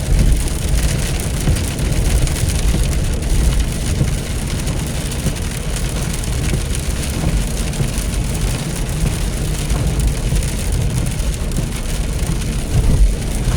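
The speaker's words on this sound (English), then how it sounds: "it has been a long time since it's rained this hard." Heavy rain pours steadily on a car while driving, a dense continuous roar of drops drumming on a surface with low rumbling underneath, loud and unbroken throughout.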